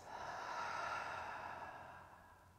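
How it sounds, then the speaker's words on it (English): A long, deep exhale pushed out through the mouth during a restorative yoga breathing exercise, one soft steady whoosh of breath that swells and then fades over a few seconds, close and quiet with no speech. "Exhale, let it go out the mouth."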